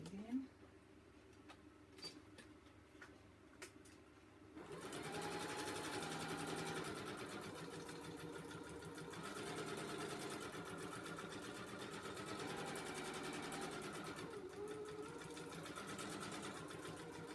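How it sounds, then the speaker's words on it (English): A sewing machine stitches around the edge of a playing card, running in a steady continuous whir that starts after a few quiet seconds of faint taps and carries on loudly to the end. "So now I'll just sew around the edge."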